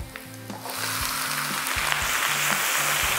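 Mussels are sautéed over high heat with spring onion, a loud sizzle bursting in after a quiet start and holding as a steady hiss, with light clinks from stirring.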